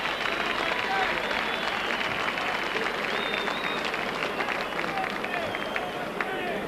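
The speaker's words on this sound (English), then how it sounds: "And the crowd appreciate that." A rugby league crowd at Wigan versus Bradford, 1986, applauds a Wigan try in steady, distant clapping and murmuring, a continuous textured wash with a commentator talking over it.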